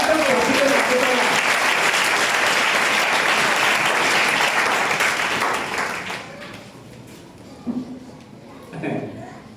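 A church congregation breaks into loud sustained applause and acclamation for the Lord, the clapping holding strong for about six seconds before fading into a few scattered voices.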